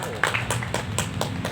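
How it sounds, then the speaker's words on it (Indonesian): A short patter of audience applause at a barista training session, a few sharp claps at an uneven rhythm over a low murmur. "Tepuk tangan dulu dong buat tangan"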